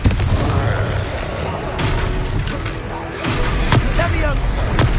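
Confringo fire spells blasting in Hogwarts Legacy combat, with dense booming explosions and crackling impacts over a continuous loud battle din, under game character voices.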